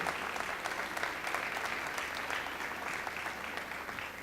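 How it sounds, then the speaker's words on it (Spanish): Audience applause fills a conference hall at an academic panel on decolonization, dense steady clapping from a large crowd that carries on evenly at moderate volume throughout. "Un aplauso enorme para ellos."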